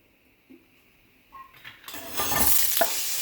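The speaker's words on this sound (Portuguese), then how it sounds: "eu vou começar colocando um pouco de azeite aqui pra gente refogar a cebola" Onion going into hot olive oil in a frying pan, a quiet start with small clinks before a steady hiss of sautéing sets in and builds, with a couple of sharper spatters near the end.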